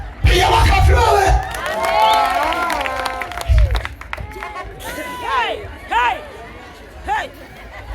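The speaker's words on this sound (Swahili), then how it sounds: "Pia makofi wewe." At an outdoor evangelistic gospel meeting, the crowd claps in bursts while whoops, shouts and excited chatter ring out, with voices rising and falling over the clapping throughout.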